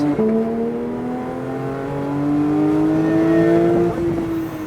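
Porsche 911 GT3 engine on a track pulls hard under acceleration, its tone climbing steadily through the rev range, loud and close and continuous with no voices.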